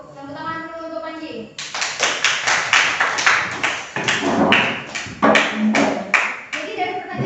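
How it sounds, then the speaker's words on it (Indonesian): A classroom breaks into rhythmic applause for a student after a short spoken lead-in. The clapping from a group of pupils comes in steady bursts, loud and close, for several seconds. "Tepuk tangan dulu untuk Panji."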